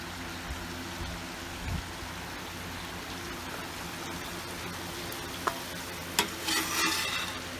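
Steak fajita meat and vegetables sizzle on a Watchman stove, a steady hissing fry with a few sharp utensil clicks and scrapes toward the end.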